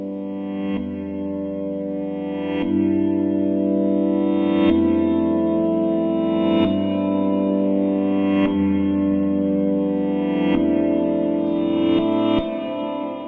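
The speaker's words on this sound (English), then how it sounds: "So we know that this reverse sounding sample is playing the chords in the right sequence." Swelling synthetic chords that rise into each change, giving a reversed feel, moving through a regular sequence every couple of seconds with no voices.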